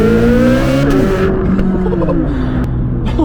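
A Chevrolet C8 Corvette Z06 accelerates hard from close by, its engine note climbing in pitch through a gear, dipping at a shift around the one-second mark, then rising again loudly.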